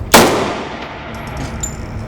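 One close gunshot lands on a steel target with a sharp metallic clang that rings and decays over a couple of seconds against faint outdoor background noise.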